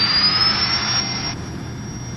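A Williams jet engine on a Vision Jet roars steadily at full takeoff power, loud and close, with a high turbine whine that climbs slightly over a broad rushing noise.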